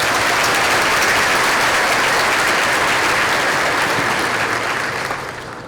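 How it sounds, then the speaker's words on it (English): Sustained applause from a large audience at a school district's State of the District keynote, loud and dense throughout before thinning slightly in the final moments. "Let's give those campuses a round of applause."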